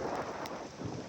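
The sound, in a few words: rain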